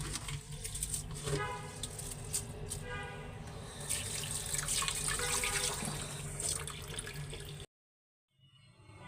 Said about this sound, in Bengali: চালগুলি আমি এখন ধুয়ে নিতেছি